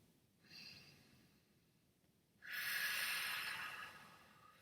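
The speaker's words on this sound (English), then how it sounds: "take a few deep breaths" Two deep breaths taken close to the microphone: a soft inhale, a pause, then a longer, louder breathy exhale, in an otherwise quiet room.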